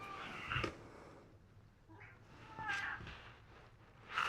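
A cat meows several times in short, separated calls, fairly close, with quiet pauses between them and no talk.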